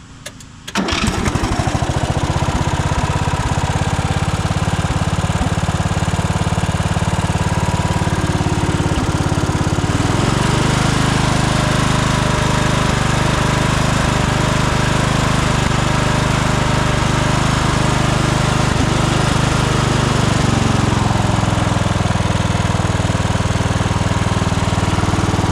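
A 1998 Craftsman LT1000 riding mower starting up and then running steadily, a loud close engine drone that holds for the whole stretch, with a slight shift in pitch partway through, no voices.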